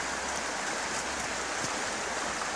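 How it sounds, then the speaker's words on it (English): A creek's rapids after a thaw roar in a dense, steady rush of broadband water noise, close and loud, with no break and no voices. "the rapids are back."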